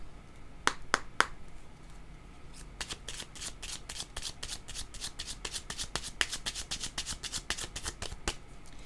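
Tarot or oracle cards shuffled for a card reading, a close series of crisp riffling snaps and flicks, sparse at first and then quickening into a steady rapid patter, with no talk.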